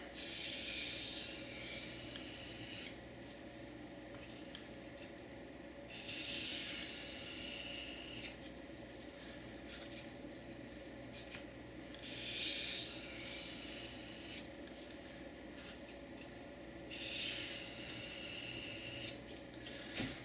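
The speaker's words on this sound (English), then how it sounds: "So I'm just going to give it a couple of alternating light passes per side to minimize the burr." A knife blade is honed with light alternating strokes on each side, each pass a soft rasping scrape lasting a couple of seconds and separated by quiet gaps, in a fairly regular rhythm with no talking.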